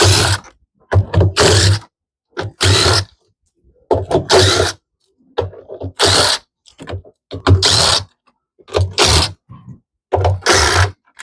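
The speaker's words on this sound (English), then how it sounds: "each one is held in by 4 screws, and you can use a 10mm nut driver to take those off" Repeated bursts of a 10mm nut driver backing out screws from the counterweight of an LG WM2016CW front-load washer, about nine short ratcheting spells separated by pauses, close and fairly loud with no talk.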